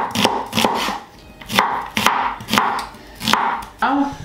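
A knife chops onions on a board in sharp, close knocks, about eight irregular strokes with short pauses between them, and no talking.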